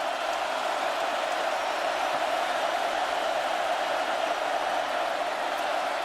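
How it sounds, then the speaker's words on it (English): Loud home crowd roars steadily throughout at a Cal college football game against Oregon, a dense, continuous wash of cheering with no breaks or distinct voices. "I'm impressed with this Cal crowd here. They're into it."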